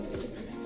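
Pigeons in a breeding loft coo in a low, continuous murmur, close and steady through the whole short moment with no talk over it.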